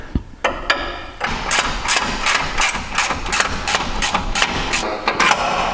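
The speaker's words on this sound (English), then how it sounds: "I'm just going to use the breaker bar" A size 18 control arm bolt on a Jeep Wrangler Rubicon is worked loose with a hand tool: loud, close metallic clicks repeat in a steady, quick rhythm over a low background hum.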